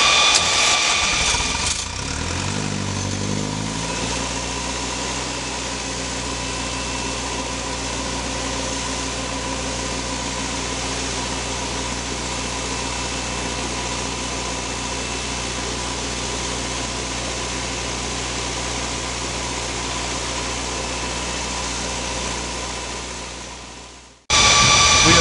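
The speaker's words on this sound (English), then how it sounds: "We will now start the engine under full load." An engine fitted with a Safety Power FOx emissions module starts under full load, rising quickly into a loud, steady, close droning roar with a constant low hum that holds unchanged for over twenty seconds before cutting off abruptly.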